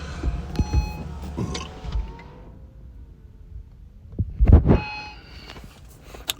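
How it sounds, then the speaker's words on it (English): Inside a car, a power window motor hums as glass slides up, with a low rumble and a few thumps before the window seats shut. "I'm about to put my windows up, so I can try to tune that out."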